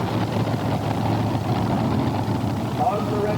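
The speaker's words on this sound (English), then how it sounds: "on the starting line, here comes the Ohio Gold tractor of John Heilemann" The Ohio Gold heavy modified pulling tractor sits at the starting line at a Bowling Green pull, its engine a loud, steady low rumble under a crowd and an announcer talking.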